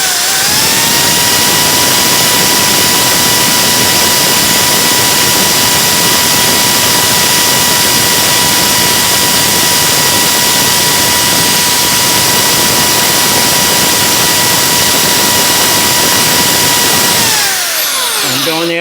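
Pointed carbide burr in a high-speed die grinder working a port of a GT40P cylinder head, a loud steady piercing whine with gritty cutting noise held for about seventeen seconds before winding down, close by and without voices.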